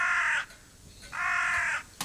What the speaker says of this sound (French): Des sombres nuées surgit une corneille criarde